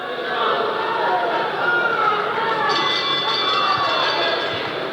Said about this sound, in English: And the crowd, you can tell by the crowd reaction how much they've enjoyed it.